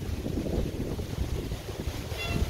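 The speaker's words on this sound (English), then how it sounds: "It's a nice windy day, so it's gonna test my installation really well." Steady rumbling wind buffets the microphone on a patio, a constant low roar with no voices.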